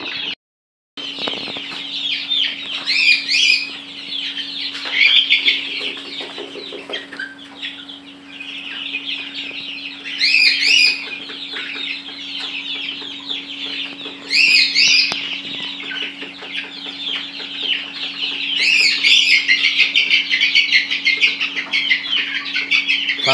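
Egyptian Fayoumi chickens cluck and chatter steadily at close range, with repeated louder crowing-like calls every few seconds over a constant low hum and no talking.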